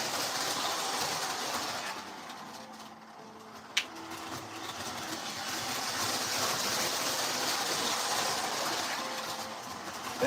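A vintage toy train whose engine has magnetic wheels runs along its track, a steady close rumble of wheels and motor with faint rhythmic clatter, continuing throughout with one brief click partway.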